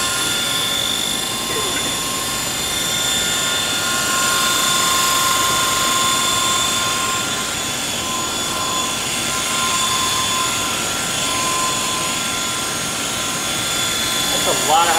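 A small model helicopter flies indoors, its rotor making a steady whirring drone with a high tonal whine that holds through the clip, with a voice talking over it.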